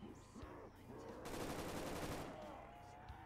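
AK rifle fire from a Black Ops custom zombies game on the Shi No Numa map, a sustained burst of automatic shots lasting about a second, fairly close and dense, with faint game noise around it.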